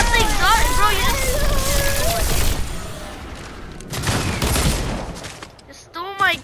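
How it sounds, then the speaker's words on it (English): A minigun fires in a video game, a dense, loud burst of rapid gunfire with booming blasts, while excited voices talk over it at the start and end. "Hey, I got a mini gun."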